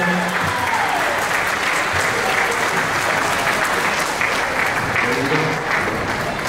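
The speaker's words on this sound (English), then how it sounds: "One round of applause for them" An audience at a middle school holiday band concert gives a full round of applause to recognized district staff. The dense clapping is steady and loud for the whole stretch, with a few faint voices underneath.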